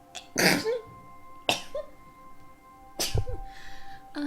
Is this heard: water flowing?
no